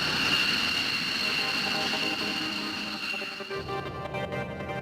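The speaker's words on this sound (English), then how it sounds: "the Lockheed X-plane is back in the sky the very next day" Lockheed X-plane jet flying overhead, a steady loud engine roar with broad rushing noise that holds throughout and thins slightly toward the end.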